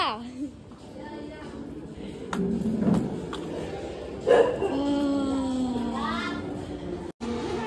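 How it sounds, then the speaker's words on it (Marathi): A dog in Malad barks a few sharp times at arriving visitors outdoors, mixed with children's voices and people talking nearby. "भुकते आमच्या अंगावर कुत्रा"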